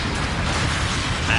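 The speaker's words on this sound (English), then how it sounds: "that's a gun cannon!" Cannon gun firing in a video game, a loud dense burst of blasts and mechanical pops that swells slightly at the end.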